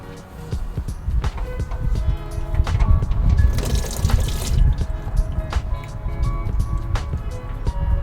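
Engine oil draining from a Ford SVT Roush Raptor into a pan, a steady close liquid pour and trickle with drips under a continuous low background rumble.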